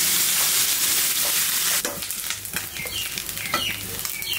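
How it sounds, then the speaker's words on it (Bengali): Small kachki fish fry in hot oil in a pan, giving a loud, dense crackling sizzle that briefly eases, then returns with scattered pops and spits up close. "এটা তোমার জন্য আমি কাশি মাছ ভাজতেছি"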